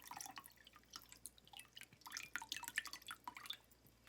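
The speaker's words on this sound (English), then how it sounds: "Pour off the liquid." Liquid drained from a can into a pan, dripping and splashing in quick irregular spatters, close and fairly quiet, with no voices.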